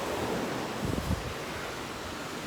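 Steady roar of ocean surf on a South Florida beach, a dense broadband wash mixed with wind buffeting the microphone, continuous and fairly loud with no voices.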